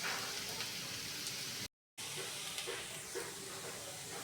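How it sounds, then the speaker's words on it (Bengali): Thin strips of tender bottle gourd peel frying in a pan, a steady close sizzle and hiss with a brief cut to silence midway. "দেখুন, এইভাবে ভেজে নিব আমি একদম সুন্দর করে"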